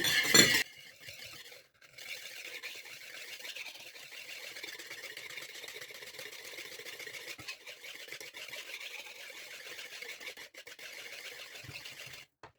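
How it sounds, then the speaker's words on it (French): A hand whisk beating a whole egg with sugar in a bowl, a fast, steady scraping and ticking whir close up after a brief clink at the start, without talk. "On va commencer par verser l'œuf entier avec le sucre. On va venir mélanger."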